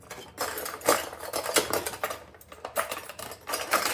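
Seasoned chicken pieces flipped over in a hot pan for spicy Peruvian chicken, with scraping metal clatter and crackling sizzle in irregular bursts close by, no talking.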